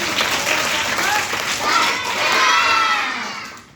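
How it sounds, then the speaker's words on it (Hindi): Schoolchildren in a classroom break into loud applause mixed with shouting and cheering, a dense crowd of clapping that swells and then fades near the end. "शाबाश, जोरदार ताली"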